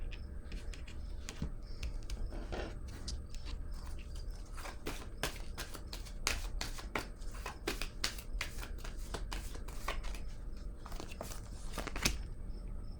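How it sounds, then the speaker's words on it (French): Tarot cards are laid down and shuffled on a table, a dense run of soft crisp taps, slides and flicks close up, irregular and continuous throughout. "je vais déposer une autre carte ici"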